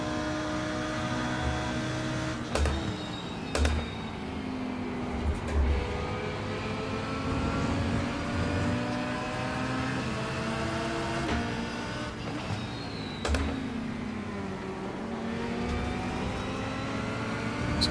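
A race car engine in the iRacing game at Road America, revving steadily with rising and falling gear sweeps, occasional clicks and thumps of shifts, a constant droning whine throughout without talk.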